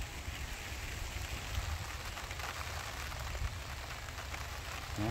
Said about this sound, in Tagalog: Ayan, ulan na. Sana lalakas.